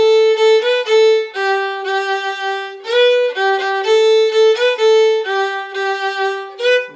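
A bowed string instrument plays a short tune ending over and over, clear sustained notes with rich overtones rising and falling in repeated phrases, close and loud with no talk.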